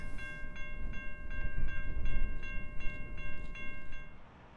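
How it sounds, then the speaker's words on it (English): A long iron ore freight train rolls through the Australian outback, its rumble steady and sustained, with high tonal squeals or a hum repeating at regular intervals over the low rolling noise, fading slightly at the end. "capturing this huge, lengthy iron ore train snaking its way through the outback"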